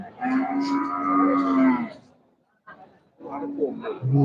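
Large Friesian cattle moo at a busy cattle market, one long, loud, deep low lasting about two seconds, then a brief pause before more bovine calling with people talking nearby.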